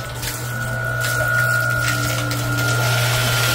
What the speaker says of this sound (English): So let's plug it in. Plugging it in. There's a pump. Pumping it.